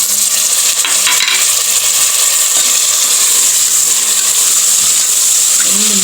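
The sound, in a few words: tomatoes added to mushrooms frying in a pan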